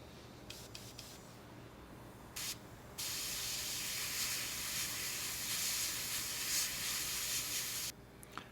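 An airbrush sprays MRP 235 Gunship Green lacquer onto a Tamiya P-38F Lightning scale model, giving a steady close airy hiss with short bursts at first and then one long continuous spray before it cuts off.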